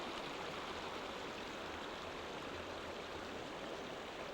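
The Clyde River beside a small camping area below Pigeon House Mountain flows in a steady, even rush of water, a close and constant wash with no voices.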